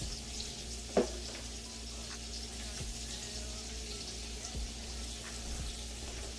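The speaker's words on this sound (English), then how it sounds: "I like to put the sausage in there kind of neat. So that way they get an even cook on both sides" Sausage sizzling steadily in a hot pan while cooking for jambalaya, a constant close hiss with a couple of faint clinks, no voices.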